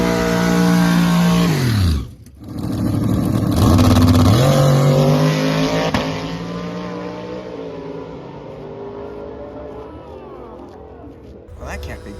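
A race car with a new motor roars loudly, drops off, then revs hard through the gears and slowly fades, with voices talking over it.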